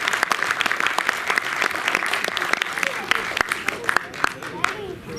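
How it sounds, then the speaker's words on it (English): An audience at the prize distribution ceremony of the Goa Anti Tobacco Film Festival claps for the participants, loose applause with distinct sharp individual claps scattered through it, under an announcer's voice. "Can we have another round of applause for all our participants"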